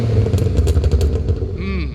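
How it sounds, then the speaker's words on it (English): A 2000 Alfa Romeo 166 with a 2.5 V6 engine rumbles deeply from its tailpipe at close range, a steady low exhaust burble lasting about two seconds, with a brief voice near the end. "we'll hear some tailpipe noise as well, because I'm sure you viewers want to hear that."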